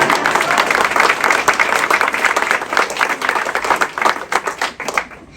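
An audience at the opening of an overdose prevention center claps, a close, fairly loud burst of individual hand claps with a distinct, uneven rhythm that thins out toward the end.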